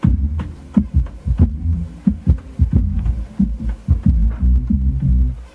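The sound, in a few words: sampled bass line from vinyl record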